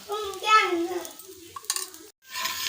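Dosa frying on a pan as oil is drizzled around its edge in a home kitchen, a soft steady sizzle with light stirring and scraping under a voice, then a brief cut.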